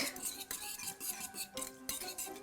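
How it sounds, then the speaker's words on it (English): Ground chia seed mixture whisked in a bowl for vegan chocolate cupcakes, quick rhythmic metallic clinking and scraping close up, fairly quiet and with no talking. "So let's give that a whisk."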